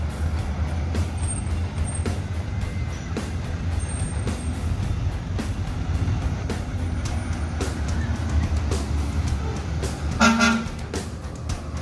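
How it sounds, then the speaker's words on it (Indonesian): A bus pulls out of Terminal Barai Solok, its engine rumbling steadily with scattered clanks and a brief horn toot near the end, amid busy terminal noise. "Ini bus yang keenam keluar dari Terminal Barai Solok."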